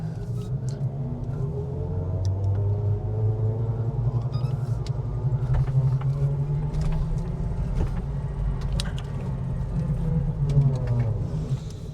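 Electrified Triumph Vitesse classic car pulling away, a steady low electric-drivetrain and road rumble that holds fairly loud and continuous throughout with no voices.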